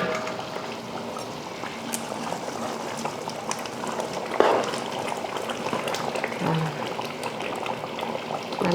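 Eggplant tamarind kuzhambu cooked for twenty people simmers in a large pot, a soft continuous bubbling with occasional small pops, a voice speaking faintly over it.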